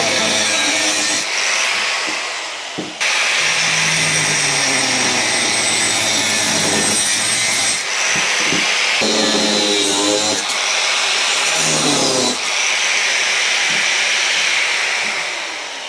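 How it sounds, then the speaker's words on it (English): Power cutting tool slicing a section out of a BMW motorcycle part in a custom build workshop, a loud continuous grinding rasp that runs almost the whole time with brief pauses and pitch shifts as the blade bites. "get that off and we'll cut a section out."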